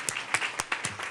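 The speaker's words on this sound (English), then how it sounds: "So let's give her a big round of applause as well." Applause from an audience at a school district meeting, heard as a short series of separate, fairly soft claps in an uneven rhythm.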